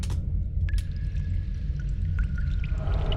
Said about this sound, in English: a little water runoff that's playing in the back, just to give it some consistent bedding there and make the presence of water known beyond just the dripping